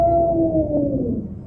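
A frightening cat wail used as an audio drama sound effect: one drawn-out, tonal cry that slowly falls in pitch and fades, heard alone without any speech.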